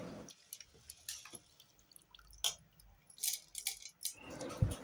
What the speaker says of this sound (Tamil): ஊற்றி கம்பை அரிசி களையிற மாதிரி கலாய்ச்சி கல் இருக்குதா எல்லாம் சுத்தம் பண்ணி எடுத்துக்கலாம்